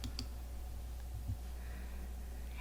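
A few soft, quiet clicks of a computer mouse, spaced apart, over a low hum with no talking.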